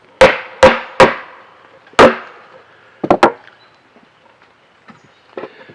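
Hammer blows strike wood while a modern beehive is built, four sharp evenly spaced knocks followed by a quick double strike and fainter taps, close and loud in a quiet room.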